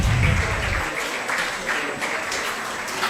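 An audience at a student award ceremony applauds a prize winner with a short burst of steady clapping.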